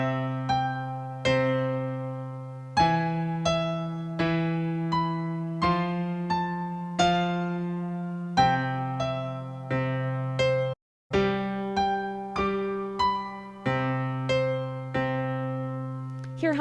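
Solo piano playing arpeggiated right-hand chords over sustained left-hand octaves, a steady rolling pattern of repeated note onsets with chord changes every couple of seconds and a brief gap near the end.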